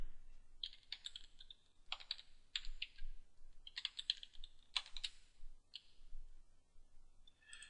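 A password being typed on a computer keyboard, quiet close-up clusters of key clicks in short bursts separated by brief pauses, no voices present.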